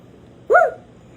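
A dog gives one short, sharp bark, close and clear against a quiet background.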